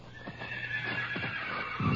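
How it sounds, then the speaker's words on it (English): A horse whinnies in a nighttime Western setting while hooves clip-clop in a loose rhythm, close and fairly loud, with a heavier thud of movement at the end. "Somebody's trying to get away with one of the horses."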